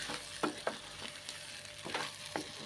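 Chicken sukka masala with onion and tomato fries in a pan, a steady soft sizzle broken by sharp scraping strokes of a spoon as it is stirred.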